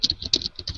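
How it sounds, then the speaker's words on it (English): Rapid, close clicking of keys being typed on a computer keyboard, a quick uneven patter of taps over under a second with no voices. "Who's typing?"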